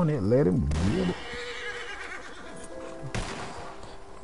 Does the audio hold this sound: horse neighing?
yes